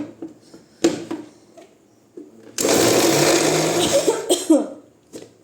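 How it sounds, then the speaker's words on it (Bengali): Coughing from sharp chili fumes comes in a few short bursts, close by, around a loud sustained whirring grind of a kitchen appliance that runs for a couple of seconds before stopping. "লঙ্কার ঝাঁঝে কাশি হয়"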